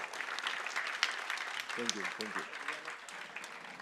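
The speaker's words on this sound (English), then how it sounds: "Let's give a big round of applause for our." Audience applause at a conference forum session, a dense, continuous wash of many hands clapping, fairly quiet and distant, with a voice briefly speaking over it.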